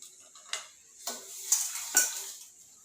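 Fennel seeds drop into hot oil for a paneer gravy and are stirred, giving a faint, soft sizzle broken by four sharp spoon-against-pan clinks at roughly half-second intervals.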